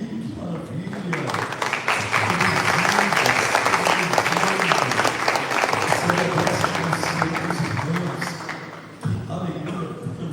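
A church congregation applauds in worship, a dense, loud wash of clapping that runs steadily for several seconds while a voice speaks over it, easing slightly near the end.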